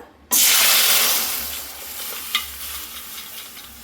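A sudden loud sizzle as mung dal lentils drop into hot oil, the hiss gradually settling into a steady fry with a light stir partway through.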